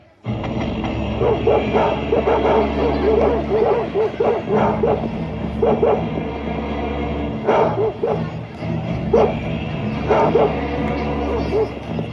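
Dogs bark and yip in short bursts over a steady low hum, fairly close, with pauses between volleys.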